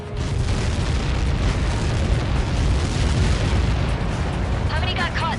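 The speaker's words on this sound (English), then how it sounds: "How many got caught in that explosion?" A massive explosion in the Ace Combat 7 video game, a Helios projectile impact, fills the clip with a loud, continuous roaring rumble that swells steadily without break.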